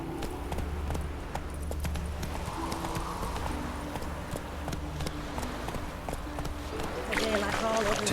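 A horse gallops in The Witcher 3, with steady rapid hoofbeats and clip-clop over ambient game sound, close and continuous, while a voice speaks over it and a brighter burst of noise rises near the end.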